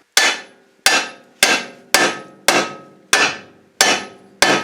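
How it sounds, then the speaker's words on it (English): A hammer strikes the threaded end of an axle on a 1999 Subaru Legacy Outback to loosen it. Eight sharp metallic blows land at an even pace, each ringing briefly. They are close and loud with no voices. "I'm going to hit it with a hammer."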